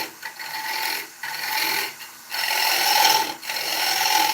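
Turning tool cutting the tenon face of an ash fruit bowl on a wood lathe, a loud raspy scraping that runs in several sustained passes broken by brief pauses.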